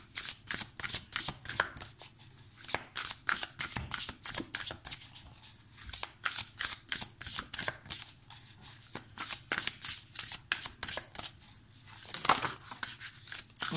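Tarot cards are shuffled by hand in repeated rapid riffling bursts with brief pauses between, close and crisp, with no talking.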